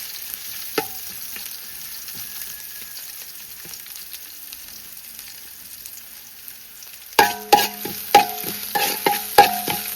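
Shallots frying in coconut oil with fenugreek in a pan, a quiet low sizzle at first, then a run of sharp scraping stirs and sizzle bursts near the end.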